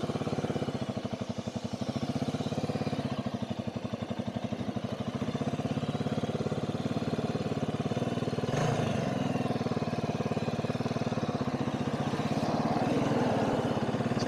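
A Honda CB400SS motorcycle idles close by with a steady, rapid low thumping, then pulls away on a road ride in Georgia, the engine note rising a little with faint wind noise. No one speaks.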